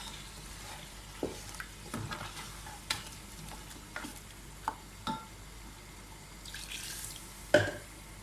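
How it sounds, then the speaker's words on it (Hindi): Beef and tomatoes sizzle quietly in a pot while a spoon scrapes and stirs in scattered sharp knocks, with a louder clatter near the end. "इसको मैं भून के ये थोड़ा सा पानी डाल रही हूँ इसमें"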